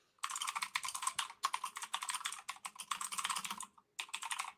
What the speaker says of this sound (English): Hang on as I bang away on my keyboard for one moment.